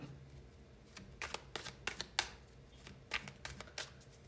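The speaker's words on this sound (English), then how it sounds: "I need to reshuffle." Tarot cards shuffled by hand at a reading, a series of crisp riffling bursts in irregular clusters, close and fairly quiet, without any voice.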